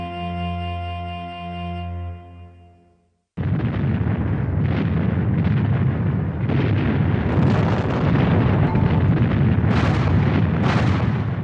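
Heavy artillery fire in a WWII Anzio battle scene: a sustained, loud, rumbling roar of explosions that erupts abruptly after a brief fading musical tone and then continues with dense, overlapping booms.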